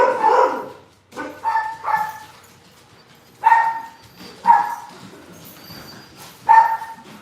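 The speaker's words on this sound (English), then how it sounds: "Sorry, guys, they'll quit barking in a minute." Several dogs barking at a home during a live craft studio stream, loud close bursts in uneven clusters with quiet gaps between them, no talking.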